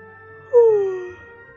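A single short, high-pitched dog whimper rising and sliding down in a video game, loud and clear over a quiet background.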